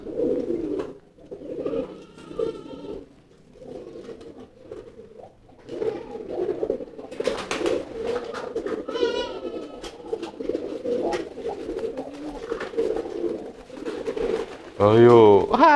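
Domestic pigeons give repeated throaty courtship coos, close and fairly loud, with a burst of wing flapping near the end; someone talks intermittently over the birds.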